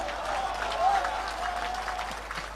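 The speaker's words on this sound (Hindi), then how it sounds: "और तालियां तो इस बात पर चाहिए" Applause from an audience at a political speech in Hindi, a steady wash of many hands clapping at moderate level throughout, fairly distant and without a clear break.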